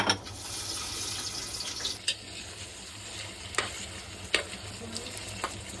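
Onion and bay leaves frying in hot oil in a pan, a steady broadband sizzle with a few sharp clicks and scrapes of stirring, close and moderately quiet, with no talking.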